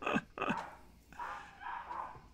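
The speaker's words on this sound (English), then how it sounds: "There's a dog barking in the background." Several dogs barking somewhere outside, a few sharp barks near the start followed by softer, muffled yelps and whines in the distance.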